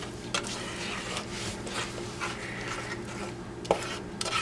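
A utensil stirs no-melt snow dough in a bowl with soft, repeated scraping and rubbing strokes, quiet and close, with a couple of sharper clicks along the way.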